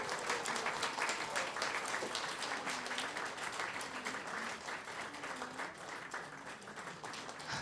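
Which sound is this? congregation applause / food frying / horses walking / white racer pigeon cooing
congregation applause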